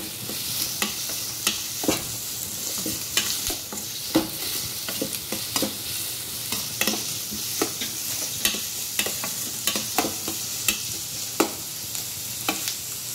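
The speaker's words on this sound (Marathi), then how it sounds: "आता हा कांदा चांगला लाल होऊन द्यायचा" Onion frying in a pan until it turns red-brown for a dried bombil chutney, a steady soft sizzle broken by regular scraping stirs of a spoon, close and alone with no voices.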